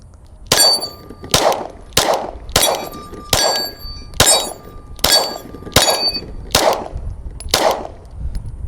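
Pistol rounds from a PSA Dagger compact Glock-style handgun strike a steel target, ten sharp metallic clangs in an even rhythm, each ringing briefly as bullets hit and ricochet off the plate.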